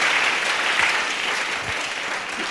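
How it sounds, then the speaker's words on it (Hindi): Sustained applause from a church congregation at a fasting prayer meeting, many hands clapping loudly and evenly before tapering slightly toward the end. "ताली बजाएंगे परमेश्वर के लिए।"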